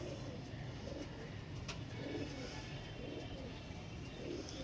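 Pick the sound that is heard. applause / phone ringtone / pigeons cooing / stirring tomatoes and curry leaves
pigeons cooing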